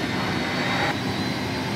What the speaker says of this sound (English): So the engine starts, N1 is rising, oil pressure is coming